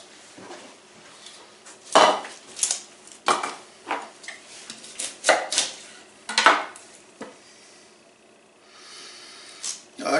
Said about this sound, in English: I'm going to cut up my onion.